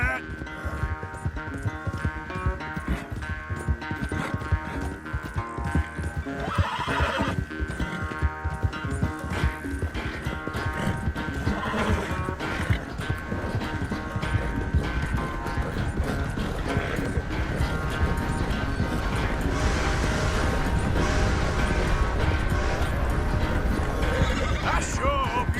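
Horses race at a gallop in Red Dead Redemption 2, loud drumming hooves with sharp neighs and whinnies over a dense game soundtrack, and voices talk along the way.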